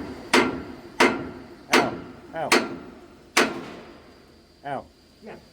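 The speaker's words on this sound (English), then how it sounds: "we need a bigger hammer" A hammer strikes steel parts of a steam locomotive being prepared in a railway works, giving five loud, ringing metallic blows at roughly even intervals followed by two softer knocks, close by.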